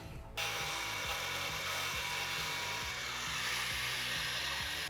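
Plastic trim being cut beneath the front bumper of a 2015-2020 Chevy Colorado ZR2, a steady loud rasping, sawing-like tool noise running continuously from start to finish after a brief quiet moment.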